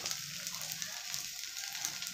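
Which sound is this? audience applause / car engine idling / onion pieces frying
onion pieces frying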